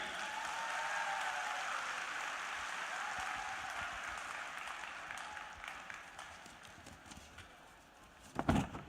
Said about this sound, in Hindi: तो आप सभी लोग अपने लिए एक जोरदार ताली बजाइए।